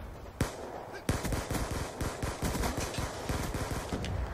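An SMG fires in a Black Ops 2 multiplayer match, a quick stream of close, sharp shots in sustained automatic bursts, starting with two louder cracks and then a steady rattling rhythm.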